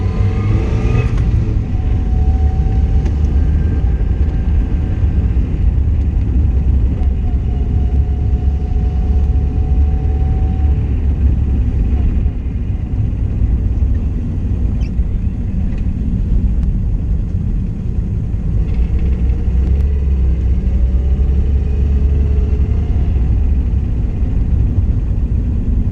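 A Mazda Miata donor car being driven, its engine running with a loud, steady low rumble and drone, with faint rising and falling engine tones throughout and no talking.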